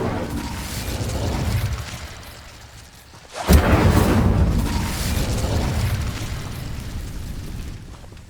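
A Confringo blasting curse goes off in Hogwarts Legacy, a sudden loud boom after a quieter lull, its rumbling blast tail filling the rest of the clip over steady game ambience.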